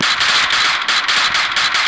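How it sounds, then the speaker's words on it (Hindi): Rapid gunfire from the mobile shooter game Free Fire, a dense stream of loud cracking shots with short gaps in a steady rhythm, heard without any talk. "गेम लगी नहीं, गोलियां पहले चलने लगी।"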